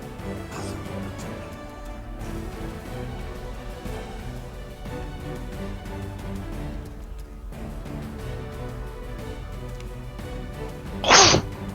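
A single sharp sneeze near the end, loud and close, following a stretch of quiet room tone with faint background music.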